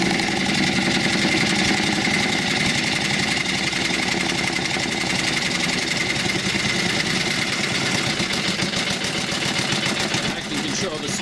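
A homemade rattle can paint shaker's motor runs continuously, giving a close, steady buzzing hum with a fast rhythmic vibrating chatter from the shaken spray can throughout.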